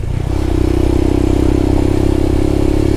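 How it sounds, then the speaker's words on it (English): Royal Enfield Himalayan motorcycle engine running steadily while riding on Dartmoor, a continuous low thumping drone with a clattering edge that holds even and close throughout. "on this bike, the Royal Himalayan"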